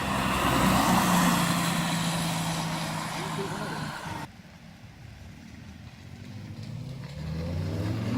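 An Audi TT drives past at a wet car meet in Cornwall. A loud rush of engine and tyre noise holds steady, then drops off sharply as the car moves away, and another vehicle's noise builds again near the end.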